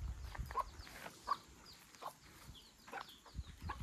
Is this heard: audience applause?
no